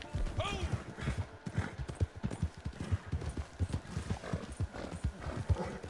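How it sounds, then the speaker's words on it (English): A horse gallops in Red Dead Redemption Online, hooves pounding in a fast steady rhythm close up for the whole stretch, with a brief whinny early on. "I'm on a horse."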